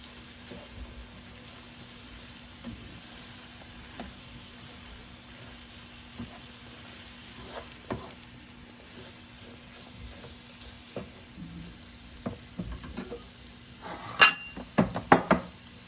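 Leeks cooking with a little rice are gently stirred in a pot: a quiet, low sizzle with soft scrapes, rising to a cluster of sharp clinks from the spoon against the pot near the end.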